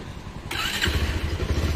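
A motorcycle engine starts after a short whirr of the starter and settles into a close, loud, fast-thumping idle, with no one speaking.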